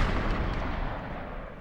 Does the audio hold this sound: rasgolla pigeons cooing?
no